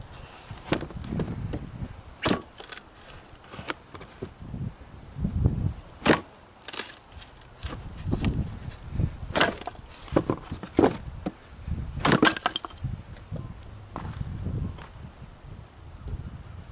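A Cold Steel Magnum Kukri machete with a reground edge chops wood in a long series of sharp, close, irregularly spaced thwacks, with cracking and rustling debris between blows.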